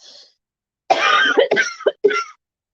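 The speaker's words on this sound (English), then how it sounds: "Excuse me, I have a cough." A short breath is followed by a burst of harsh, hacking coughs in quick succession, loud and close, then silence.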